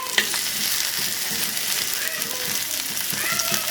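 Onions fry in oil in a clay pan on low heat, sending up a constant bright sizzle with soft stirring knocks close by.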